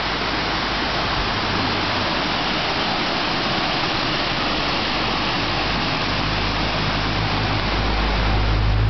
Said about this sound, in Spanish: Esta es la cascada de la Coca en el Yunque